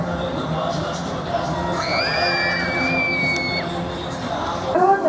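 Crowd noise at an amusement park in Kazan, with cheering, whoops and children's shouts sustained throughout and a louder burst of yells near the end, plus some speech babble.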